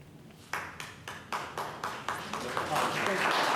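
Applause at a Douglas County Board of Commissioners special meeting starts as a few sharp, separate claps from the audience, then thickens into steady clapping from the crowd.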